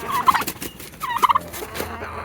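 Turkeys gobble in two bursts of rapid, warbling calls, fairly close and loud, with other poultry noise from chickens and geese scattered around them.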